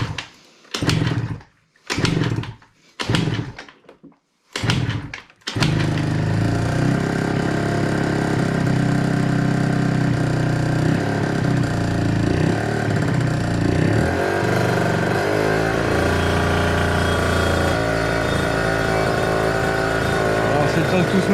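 An MBK Rocket moped engine starts after several short bursts of other sound, then runs steadily and loudly with a buzzing two-stroke drone for the rest of the time, its pitch wavering slightly as the throttle shifts.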